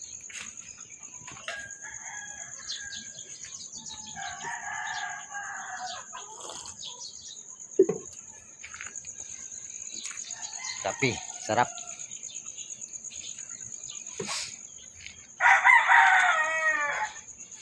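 Chickens perched in a tree call and crow, with a brief loud rooster-like burst near the end, over a steady high insect drone and scattered bird chirps, with a few spoken words.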